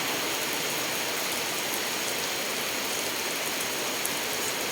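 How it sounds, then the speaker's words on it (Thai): Steady, dense rainfall pours down without letup, a loud continuous hiss with no voices. "ฝนตกค่ะฝนตกแรงมาก บรรยากาศนะคะบรรยากาศฝนตก"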